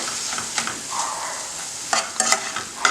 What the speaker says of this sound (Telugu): మనం ఒకసారి బాగా కలిపేసుకుందాం.